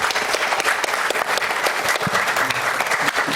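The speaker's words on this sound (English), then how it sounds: "Yep, you can give a clap." An audience claps for panel members at a legal discussion on Caribbean contributions to common and constitutional law, a dense, even burst of applause from a sizeable crowd, fairly close and sustained without speech.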